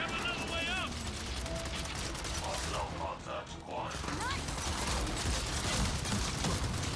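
Gunfire in Gears of War 4 aimed at a shield-carrying enemy, rapid mechanical bursts and clattering shots mixed with game effects, fairly loud and continuous, with a voice talking over it.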